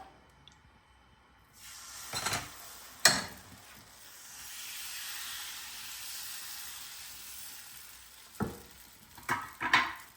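Palappam batter cooks in a hot pan with a steady, soft sizzle and hiss, plus a few sharper clatters of a utensil near the start and toward the end, with no voices.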